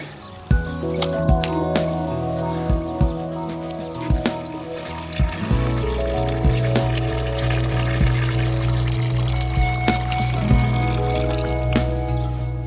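Water from a hose or can soaking the soil around a newly planted clematis, a steady close pouring rush with squelching drips and splashes throughout, and no talking.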